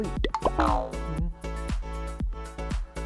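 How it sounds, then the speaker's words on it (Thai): Water dribbles onto a coated phone screen protector film in a series of quick plops and drips, close and fairly loud, with someone talking over them. "พอใส่น้ำเข้าไปนะครับ จะเป็นยังไง"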